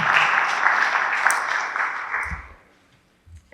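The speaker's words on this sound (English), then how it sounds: "Let's give them a round of applause." Audience at a school spelling bee claps in a strong, even burst that fades out after about two and a half seconds, followed by near silence and a couple of soft thumps.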